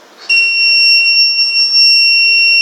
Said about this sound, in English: at the same time it gives a buzzer indication